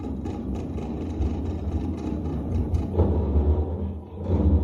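A steady low rumble with a droning hum from house pipes, swelling slightly near the end, with no talking.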